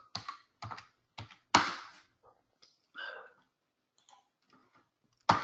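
A few scattered clicks and taps of keys on a keyboard, irregular and close, with quiet pauses between them.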